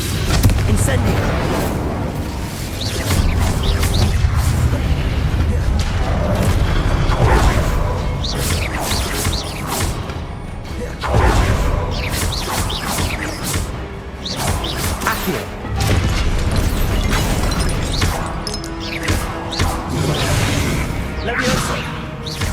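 Incendio fire spell cast over and over in Hogwarts Legacy during a fight, dense fiery booms and whooshes layered with crashes and continuous game action, loud throughout, with a voice speaking over it.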